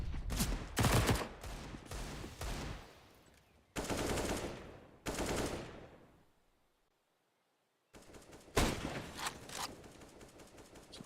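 Counter-Strike match gunfire in a competitive esports game, with sharp rapid bursts of automatic shots, several loud volleys separated by brief quiet gaps and one stretch of near silence, no commentary audible.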